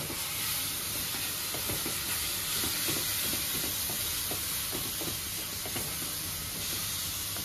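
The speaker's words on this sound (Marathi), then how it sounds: "मसाला टाकल्यानंतर पण त्याला चांगलं परतायचं तेल सुटेपर्यंत" Masala sizzles and hisses steadily in hot oil while being sautéed for dal khichdi, a constant frying crackle with faint stirring scrapes throughout.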